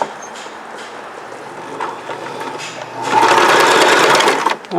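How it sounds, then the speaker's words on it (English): Sewing machine stitching through a double-folded jeans hem at the thick corner bump intersection, a steady mechanical whir that grows louder and busier midway as the needle works into the heavier layers, heard alone up close. "I'm gonna do a double fold and I'm gonna sew the corner bump intersection."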